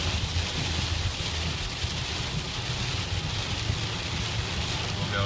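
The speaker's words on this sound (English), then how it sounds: "The rain's slowing down a little bit now." Steady rain pours during a thunderstorm in Madison, a dense even hiss of drops with low rumbling beneath, continuous and fairly near, with no clear talk over it.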